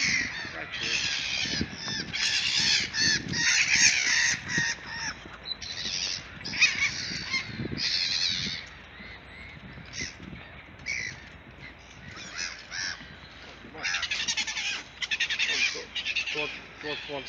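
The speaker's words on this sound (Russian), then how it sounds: "Чайки. Чайки оборзели." Seagulls on the Pskov embankment call repeatedly in loud, harsh bursts, with the cries close and overlapping throughout as people talk beneath them.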